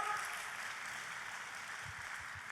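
A church congregation claps through a worship service, steady dense applause carrying on evenly from start to finish, moderately loud with no voices over it.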